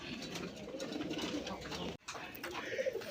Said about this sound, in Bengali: বন্ধুরা এখানে একজোড়া বাগদাদি কবুতর আছে, দেখেন নটটা হচ্ছে বাগদাদি, মাদিটা হচ্ছে হোয়াইট রেসার কবুতর